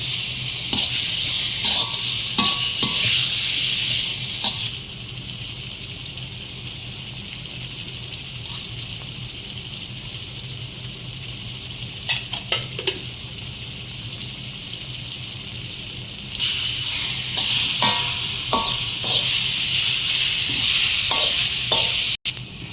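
Thick mashed elephant yam masiyal being stirred and scraped around a hot pan, a steady sizzle with repeated sharp spatula clicks against the metal, close and continuous, louder at the start and end, no talking.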